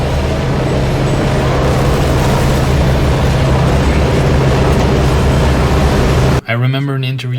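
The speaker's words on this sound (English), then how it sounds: "they made a tram sound by recording the sound underneath the BART train and modifying it to fit into the game" Dead Space tram rumbling, built from a recording made underneath a BART train: a loud, steady low mechanical roar with humming tones that runs unbroken, then cuts out near the end as a brief voice takes over.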